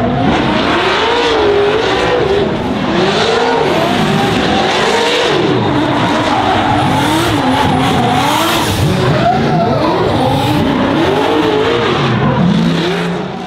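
A car engine revs up and down repeatedly while tires squeal in long, wavering screeches as the car clutch-kicks into a drift during a drift competition battle, loud and close throughout.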